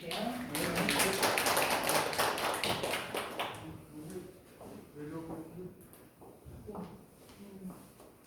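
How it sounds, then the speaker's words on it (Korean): An audience claps in an indoor hall to welcome a guest speaker, with dense applause for about three seconds that thins out and fades while faint talk continues. "박수 부탁드릴게요"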